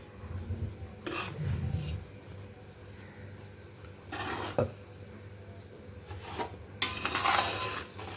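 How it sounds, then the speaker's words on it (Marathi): Semolina being dry-roasted without ghee in a pot over a low gas flame for rava ladoo, stirred with a spoon that gives intermittent scraping and rubbing bursts against the metal, close and fairly quiet. "पातेल्यात का भाजते सगळीकडून हीट पण लागते आणि चांगला भाजला जातो बारीक गॅसवरती भाजूया"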